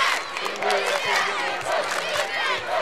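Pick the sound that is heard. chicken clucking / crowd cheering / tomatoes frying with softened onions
crowd cheering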